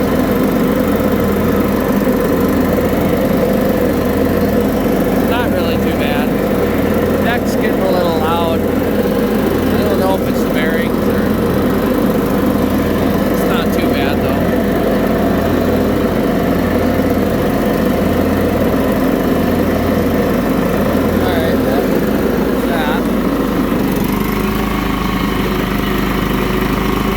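John Deere STX38 riding lawnmower engine running steadily at idle with a low rhythmic throb, close and loud throughout, with people talking over it.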